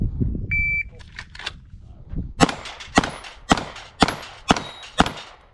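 Rapid string of loud rifle and pistol shots on an outdoor range during a Mozambique transition drill, about seven close sharp cracks in quick succession, preceded by a few electronic beeps and a brief voice.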